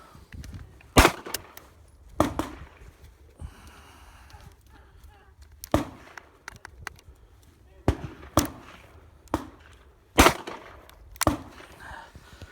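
Shots from a .467 Magnum revolver, part of a firearms collection, ring out as a series of sharp, loud individual reports spaced a second or more apart, each with a short echoing tail and some quiet movement between them.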